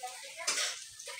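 Food frying over a wood-fired clay stove, a soft sizzle with scraping and stirring of a pan, one brighter burst of hiss midway, quiet and close with no talk.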